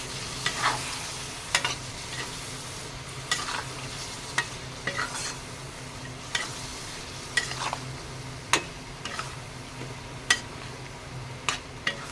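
Beef pickle fries crisp in a pan with a continuous close sizzle, broken by regular sharp scrapes and taps of a spoon stirring it every second or so. No voices are heard.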